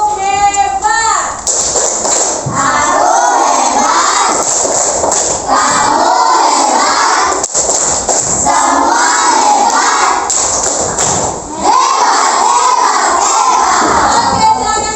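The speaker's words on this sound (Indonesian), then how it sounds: "Kita kasih dulu mereka tepuk hebat." A class of students performs a 'tepuk hebat' clapping cheer, loud chanting children's voices in rhythmic shouted phrases with cheering, repeated across the clip in a lively group chorus.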